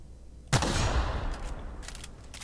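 A single sharp gunshot bursts out in the video game The Outer Worlds, followed by a decaying rumble and a few faint mechanical clicks of reloading.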